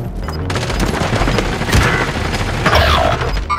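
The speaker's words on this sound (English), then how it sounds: "Receiving hostile fire." Gunfire in the video game Call of Duty: Modern Warfare, rapid bursts of automatic shots mixed with heavy booms, dense and loud throughout with faint radio-style voices underneath.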